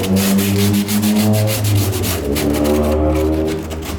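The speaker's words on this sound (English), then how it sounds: "So, scuff this up a little bit." Sandpaper worked by hand across a fiberglass car bumper to scuff it, a loud, close, continuous rasping rub with a steady back-and-forth rhythm and no talk.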